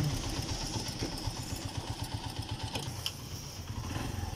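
A motorcycle engine runs close by with a steady, rhythmic putter and low rumble, holding an even pace throughout with no voices.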